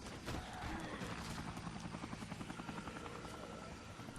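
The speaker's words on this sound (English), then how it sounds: "Swear I hear that helicopter." A helicopter in the video game Dead Rising, its rotor thumping in a fast steady pulse over a continuous engine drone, fairly quiet and distant in the game mix with no talking.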